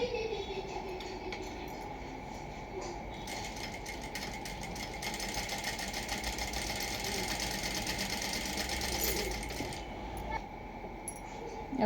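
A sewing machine runs steadily, stitching piping close to the edge of a plain blouse. The whir is continuous and fairly close throughout, with no talking over it.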